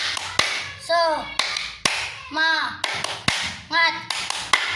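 Schoolchildren in an upper-grade class perform a rhythmic spirit clap, sharp claps landing in short bursts between bouts of group chanting, close and fairly loud, with children's voices clearly heard.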